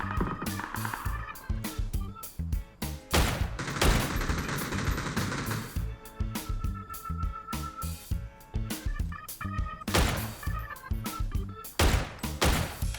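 Rapid bursts of gunfire in the PUBG battle royale game, loud sharp shots in quick volleys and fusillades with brief pauses between, close and continuous with no talk over them.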